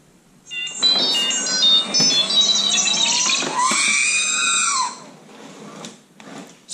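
Second scream effect from an R2-D2 toy droid: a loud electronic burst of chirps and whistles that sweeps into a shrill sustained shriek for several seconds, then trails off into faint clicks.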